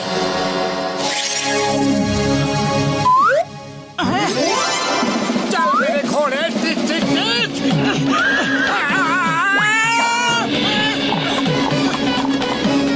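A cartoon horse whinnies and neighs loudly and repeatedly, with long wavering high-pitched calls, a sudden crash and a brief pause partway through, all set against an animated soundtrack.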